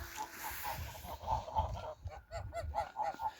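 A drake honks in a run of short, repeated nasal calls, close and fairly loud, on a village farmyard, with no talking over it.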